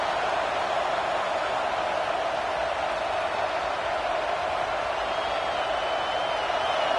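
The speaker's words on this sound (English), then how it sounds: "this crowd is fired up. Listen to this noise here." Steady roar of a large stadium crowd in an NCAA college football video game, a broad continuous wash of cheering noise heard from a distance.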